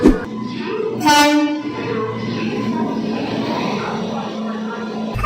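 Inside the unreserved compartment of the Ganadevata Express from Howrah, a steady rumbling train interior drone with a brief horn-like blast near the start and a couple of knocks.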